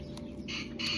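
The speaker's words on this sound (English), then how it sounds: "also if you hear chickens in the background, we do have chickens literally right behind the corner" Chickens just behind a house corner give a couple of short squawking clucks, moderately close, over low background noise, with no talk.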